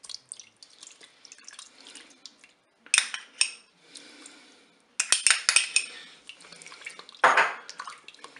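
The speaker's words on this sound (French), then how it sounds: "Je mélange tout ça." A spoon scrapes and clinks against the metal bowl of a Cookeo pressure cooker as tomato paste is stirred into duck legs, in short irregular bursts with quiet gaps.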